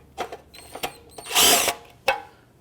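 A power drill unscrews T30 Torx bump stop screws for the hood on a 2009-2014 Ford F-150, giving a short whirring burst of about a third of a second, framed by clicks and knocks of the tool being handled.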